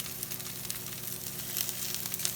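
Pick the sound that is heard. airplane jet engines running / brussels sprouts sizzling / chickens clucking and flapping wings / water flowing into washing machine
brussels sprouts sizzling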